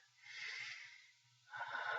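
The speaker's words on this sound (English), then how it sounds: "take a deep and clearing breath" A deep, clearing breath taken during a guided meditation, sounding as a close, airy inhale that swells, eases off, then returns as a second strong rush of air; no talking.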